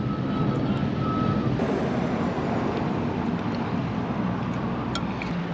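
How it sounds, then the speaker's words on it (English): Reversing beeps come from roadworks about 100 yards back beside a road. They sound distant and faint over a constant broad rumble of outdoor traffic and wind. "We are set next to a road, and we've got roadworks about 100 yards behind us."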